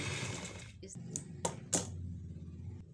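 A sewing machine stitching a lace strip onto a shirt panel hums steadily, then stops, followed by a few sharp clicks and taps, close up and fairly quiet.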